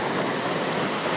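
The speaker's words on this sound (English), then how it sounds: "thousands of litres of water shot high into the sky on Roma Street" Water from a burst main on Roma Street roars high into the night air as an inner-city geyser, a steady, dense rushing wash like heavy surf that stays loud and unbroken throughout.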